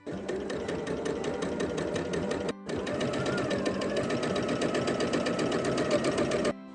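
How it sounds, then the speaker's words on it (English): A sewing machine stitches quilt half square triangle seams in two loud, close bursts of rapid, steady mechanical whirring and needle chatter, with a brief pause between them. "So you're gonna sew 1/4 inch on either side of this line here."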